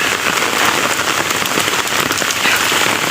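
Heavy rain falls steadily, a loud dense hiss of drops pattering on surfaces close by, continuous with no voices.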